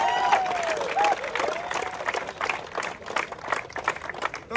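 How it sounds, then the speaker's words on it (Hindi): Loud, sustained applause from a crowd fills the whole stretch, dense and steady, with a few high whistle-like tones sliding over it near the start. "जोरदार तालियां"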